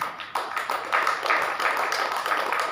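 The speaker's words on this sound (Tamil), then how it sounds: "அவருக்கு ஒரு கைத்தட்டுக்கலாமா?" An audience claps for a speaker at a gathering, a sustained wash of many hands that rises slightly and holds steady, without speech over it.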